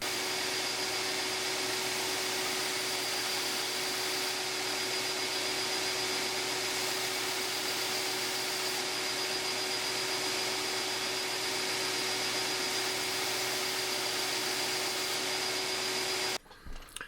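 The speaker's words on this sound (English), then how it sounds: "I'm going to put it back over here on the belt sander because I actually have one." A belt sander grinding a piece of water buffalo horn into a rough ear plug blank, a steady loud whirring drone with a constant high whine that runs unbroken for the whole stretch, then stops abruptly at the end.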